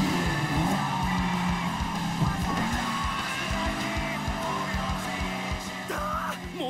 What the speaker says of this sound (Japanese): ものすげえブレーキングドリフト